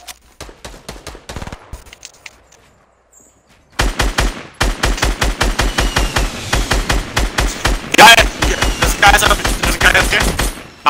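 Automatic weapon fire in the battle royale game Fortnite rattles in loud, rapid rhythmic bursts, with a few sparse shots and a short lull before sustained sprays of fire close by.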